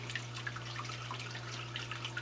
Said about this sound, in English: Let me turn the pumps on.